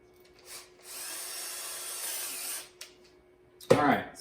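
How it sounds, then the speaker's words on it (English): A power drill boring through a taped spot while a seat is attached, a whining run of about two seconds after a brief blip, then a short louder burst at the end. "So now I do a high-tech drilling job over here."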